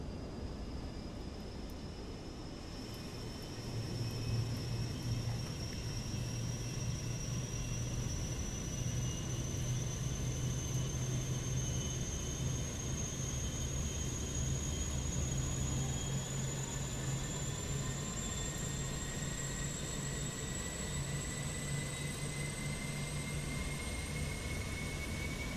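An Airbus A321-200 auxiliary power unit spools up in a flight simulator: a steady, loud mechanical roar under a thin whine that slowly climbs in pitch, with no talk.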